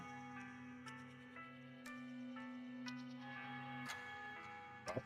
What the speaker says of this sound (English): Wait, can you hear that? I hear bells.